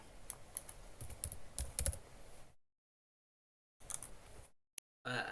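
Keys clatter on a computer keyboard in quick, light bursts of typing, broken by silent pauses, with a brief final flurry near the end; quiet and close.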